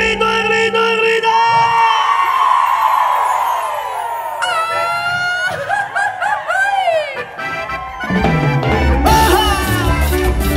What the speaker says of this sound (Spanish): ¡Y el grito, el grito, el grito!